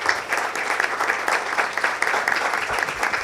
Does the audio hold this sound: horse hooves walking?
no